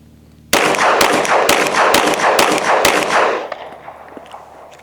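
Six handgun shots fired without a compensator ring out close and loud in a quick, steady string, each a sharp crack, followed by a fading echo once the firing stops.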